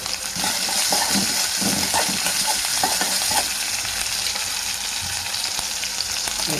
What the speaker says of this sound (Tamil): வந்து ஒவ்வொரு காயாக போட்டு நம்ம வதக்கலாம்.